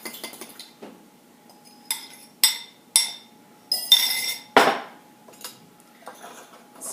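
Protein brownie batter being stirred in a bowl, heard as a series of sharp utensil clinks and scrapes against the bowl, spaced irregularly with quiet gaps, close and moderately loud.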